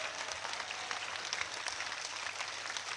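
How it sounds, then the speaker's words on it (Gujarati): An audience at a Thakor community gathering in Diyodar claps steadily, a dense, even wash of applause from a crowd heard from within, with no voices standing out. "ના કહું ત્યાં સુધી તાળીઓ પાડો એટલે અમને ખબર પડે."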